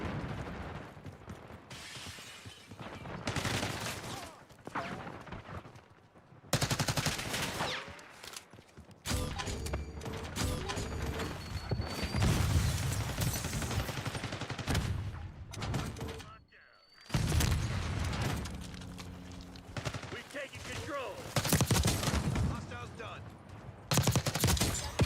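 Sustained M4 rifle fire in Black Ops 6 multiplayer, rapid automatic bursts and mechanical clatter broken by short pauses, with a player talking faintly over the game sounds.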